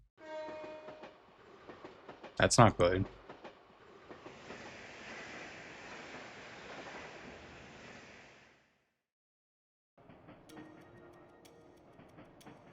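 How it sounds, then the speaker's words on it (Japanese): Train arriving in the Trails to Azure video game, a loud horn-like blast followed by a long rushing rumble of the passing cars, then a quieter mechanical hum after a brief gap. "帝国からの列車だ。"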